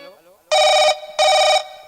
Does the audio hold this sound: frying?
no